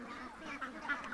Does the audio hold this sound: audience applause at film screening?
no